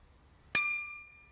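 A drinking glass three-quarters full of water is struck once, giving a sharp clang that settles into a clear, high ringing note, close and alone, slowly decaying over about a second.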